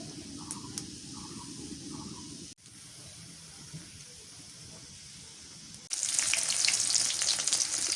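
Vegetables fry in hot oil, first faint and muffled, then breaking into a loud, close, steady sizzle toward the end.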